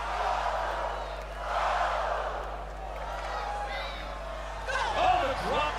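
A WWE Raw arena crowd roars in steady waves of cheering for wrestler Lyra Valkyria, loud and continuous with swells, while a commentator talks over it.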